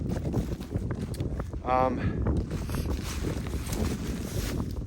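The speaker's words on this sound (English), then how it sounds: "The wind has picked up and it has gotten actually quite, excuse me, quite cold." Wind gusting across a challenging mountain hiking trail up Bull Hill toward Chimney Rock on a cold day, a steady broadband rush buffeting the microphone throughout, with a brief tonal voice-like burst partway through.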